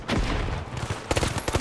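Burst pistol fire in The Finals, a rapid cluster of close, sharp shots cracking out in quick groups against a busy game-fight background.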